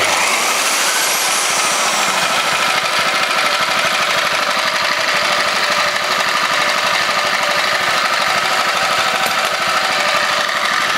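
Old stationary engine with electric start running on its own exhaust, a loud continuous chugging and rattling close by, steady throughout with no voices.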